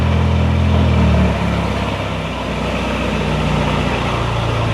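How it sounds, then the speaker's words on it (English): A Ferrari engine roars loudly in a dense, heavy rumble, then drops slightly to a steady high idle that continues to the end, close up with no talk. "Yeah, fire it up. He would do a loud start."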